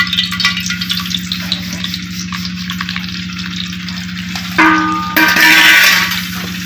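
Semolina roasting in oil over a low flame for Punjabi desi halwa gives a steady close sizzle with stirring, over a constant low hum, growing louder and brighter near the end.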